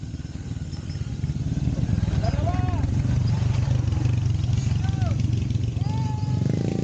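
A motorcycle's mid-pitched engine drone rises and holds close by on a road in Cebu, loud and continuous, with people chatting and calling out over it.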